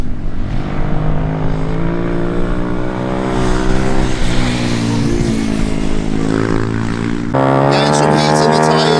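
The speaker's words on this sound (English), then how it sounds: "Here he comes now, he's just warming his tyres out, trying to get some heat in them because he's on slicks." A race car on slick tyres lapping a Teesside circuit on a test day to build tyre heat, its engine droning loudly and continuously with rising and falling revs, the note sharpening near the end as it passes close.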